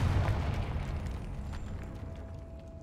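The Confringo fire spell explodes in Hogwarts Legacy, a low, rolling blast rumbling heavily and slowly fading over a few seconds.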